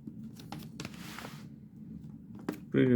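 A Delta Musei Vaticani fountain pen scratches lightly across paper in faint, brief strokes in several directions, quiet and close, before a voice cuts in at the end.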